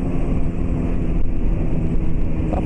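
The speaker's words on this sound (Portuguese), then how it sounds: "Só vou dar uma voltinha aqui pra esquentar o motor" Honda Hornet motorcycle engine running steadily at low revs during a short warm-up night ride, a continuous loud drone mixed with wind buffeting on the microphone, no voices.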